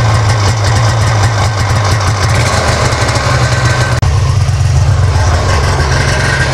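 A snowmobile engine idles as it warms up, giving a loud, steady, close low rumble that stays continuous throughout, with a brief dropout partway.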